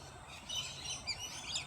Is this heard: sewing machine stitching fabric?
no